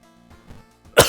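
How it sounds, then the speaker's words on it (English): A single sharp cough bursts out close and loud at the end, after a few seconds of quiet low breathing sounds. "And it caused me to cough."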